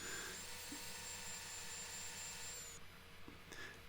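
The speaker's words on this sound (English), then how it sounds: "it's pretty easy to erase that nub with the sander" An electric sander smooths a nub off a woodturned plate, making a steady, faint whirring hum that runs continuously and then drops off near the end, with no voices.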